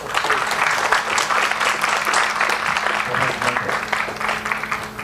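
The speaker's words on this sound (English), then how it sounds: "Please join me in greeting Professor Minford with a big round of applause." Steady, dense applause from a large audience, continuous clapping filling the room at an even, loud level throughout.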